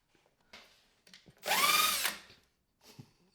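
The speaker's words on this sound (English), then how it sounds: "Dude, look how many holes we have to drill for the splitter" Cordless power drill boring holes to mount a chassis splitter on a Honda Civic Type R FK8, one loud close burst of spinning whine lasting about a second, framed by faint clicks and handling noises in a quiet garage.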